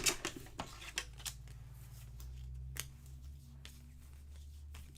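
Scissors snip through paper strips at a craft table, with a few sharp cuts close up near the start, then a steady low hum with only light scattered rustles.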